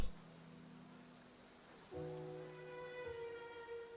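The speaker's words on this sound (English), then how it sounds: "It's been raining non-stop for a few days now." Rain falls in the Genshin Impact game world as a faint, even patter across the whole stretch, with soft sustained musical tones rising in partway through.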